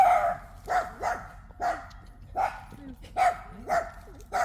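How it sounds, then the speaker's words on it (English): A dog barks repeatedly in an uneven rhythm, about eight sharp barks, at moderate distance and fairly loud. "That's the dog you hear in the background."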